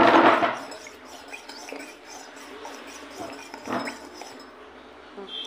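Glass clinking as salt and sugar water is stirred or mixed in a glass, a few brief light chinks, strongest at the start and again midway, fairly close and quiet.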